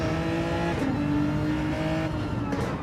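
On-board race car engine in a sim racing game at Laguna Seca, a loud steady buzzing drone that drops pitch at a gear change and then climbs again, with a brief tire scrub near the end.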